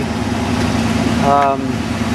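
A 1968 Buick Electra convertible idles with its exhaust running, a steady low engine drone carrying through while someone talks over it nearby.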